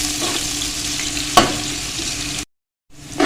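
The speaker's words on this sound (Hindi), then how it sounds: "अब हमने इसको थोड़ा सा भून लेना ताकि प्याज का जो कच्चापन है ये खत्म हो जाए" Medium onions frying in oil in a pan for chana biryani, a steady close sizzle with stirring scrapes and one sharp clink, broken by a brief silent gap before sizzling returns.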